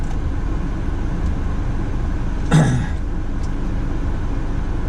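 Steady low engine and road rumble inside a 2018 Subaru Outback idling in traffic, with one brief louder swell partway through.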